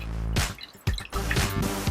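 Water drips and trickles off a waterproof flooring plank just lifted out of water, with close, wet splashy bursts and brief pauses between them.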